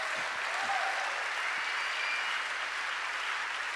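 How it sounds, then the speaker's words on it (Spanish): A church congregation claps in praise, a dense steady wash of many hands at a moderate distance that carries on evenly without pause, with a few low thumps near the start. "Démosle palmas al Señor"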